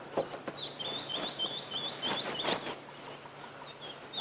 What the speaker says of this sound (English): we can hear white-browed scrub robin calling quite vigorously. You can hear a golden-breasted bunting as well.